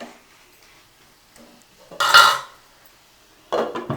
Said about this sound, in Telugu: ఒక్కసారి బాగా కలియబెట్టి